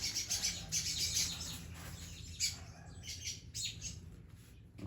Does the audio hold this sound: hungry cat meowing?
no